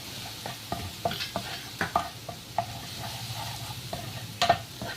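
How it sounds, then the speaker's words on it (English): Garlic, ginger and green chilies fry in hot oil with a steady soft sizzle, broken by sharp clicks and scrapes of a spoon stirring the pan, nearby and without talk. "we'll give this a nice fry so the raw taste of the garlic and the ginger and the green chilies goes away"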